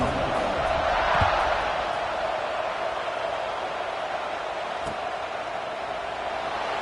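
Football stadium crowd at a college game kickoff, a broad, steady roar of many voices, fairly loud and continuous with a slight swell near the start.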